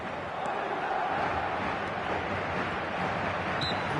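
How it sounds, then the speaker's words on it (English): A football stadium crowd roars in a steady, dense wash of cheering and noise, far and diffuse, continuous throughout with no clear individual voices. "Certainly gave this crowd something to really cheer about"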